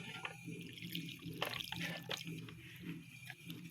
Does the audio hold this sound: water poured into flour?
yes